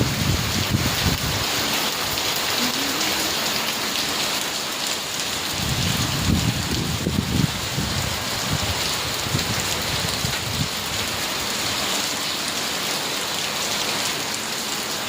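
Continuous downpour of rain in Mangalore with gusts of wind swelling and fading in the low rumble, bending henna plants, steady and enveloping throughout, no one speaking.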